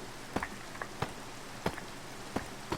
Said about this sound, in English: It's raining, just saying. Ugh, I do not like rain.